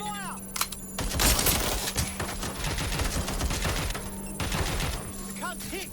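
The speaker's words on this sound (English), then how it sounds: "I'm taking fire!" Heavy gunfire in a Watch Dogs Legion firefight, loud bursts of automatic fire and rapid shots crowding together, with shouted voices and a steady tone running underneath.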